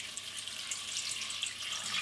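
Water pours steadily from a container into a saucepan in a kitchen, a continuous faint hissing splash with no talking.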